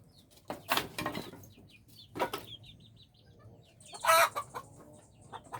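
Chickens clucking in irregular short bursts, fairly close, with a few louder squawks and a brief rustle like wings flapping among the hens.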